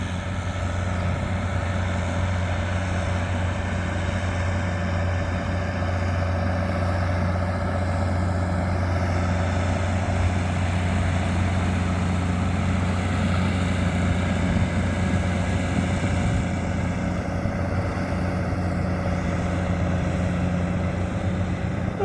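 A tractor engine with a CVT gearbox runs steadily under light load at about 1800 rpm, a continuous low droning hum with a faint whine, close and unchanging throughout with no talk.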